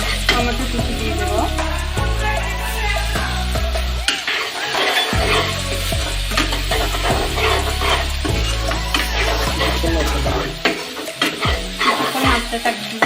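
Fish-head mung dal with chopped tomato stirred in a pan, with a steady sizzle and repeated scraping strokes of a spoon against the metal, continuous and close.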